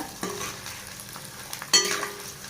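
Small onions and garlic sauté in sesame oil for a medicinal tamarind curry, giving a close, steady sizzle with scraping stir strokes and a sharper clatter of the spoon near the end.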